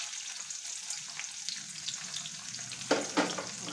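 Chana dal and chillies fry in a pan with a soft, continuous crackling sizzle, faint and close, broken by a couple of sharper spits and stirring scrapes toward the end.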